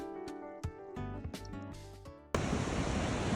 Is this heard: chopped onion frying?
no